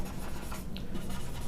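A pen scratches steadily across paper as trigonometry working is written out, a soft continuous rubbing with faint room hiss and no talk.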